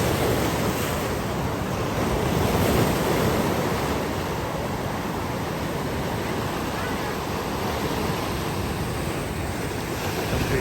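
Sea waves at Rushikonda beach in Vizag, a continuous broadband wash of surf rolling steadily without pause, fairly loud and close, with wind mixed in and no clear talking.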